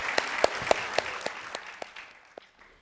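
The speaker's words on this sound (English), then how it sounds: "who's here in the front row and deserves a great round of applause" A seated audience at a public discussion on the Equal Rights Amendment gives scattered applause: a handful of distinct, sharp claps ring out over a soft bed of clapping that thins and fades away toward the end.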